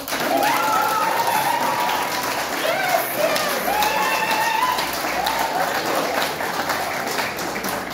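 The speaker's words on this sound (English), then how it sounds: "I'm supposed to get a clap here." A large student crowd at a youth Model United Nations talk fills the room with continuous loud applause, mixed with crowd noise, voices and high whistling, steady throughout.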